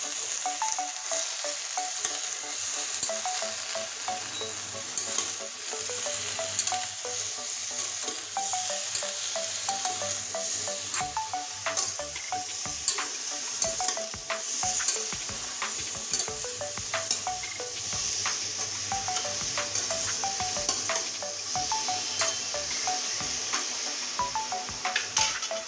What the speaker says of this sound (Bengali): এখানে আছে হলুদ দিয়ে দিচ্ছি। এবার সুন্দর করে নেড়ে নেব।